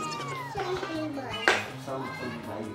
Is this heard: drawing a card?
no